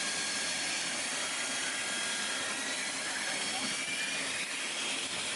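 A steady, broad hiss of steam fills the air with a low rumble underneath, continuous and loud, from Mikado steam locomotive 1244 standing nearby in Switzerland.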